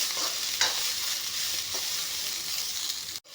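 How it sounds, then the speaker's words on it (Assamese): Boiled green beans and green chillies fry in a pan, a short burst of steady sizzling with a couple of stirring scrapes, close and moderately loud, cutting off abruptly at the end. "অলপমান ভাজি ল'ম বিনখিনি।"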